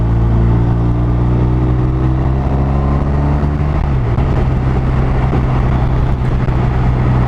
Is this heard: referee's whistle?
no